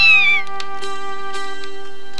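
Cat in a 1987 animated Christmas special gives one clear meow that falls in pitch, followed by a steady tonal background with soft intermittent ticks.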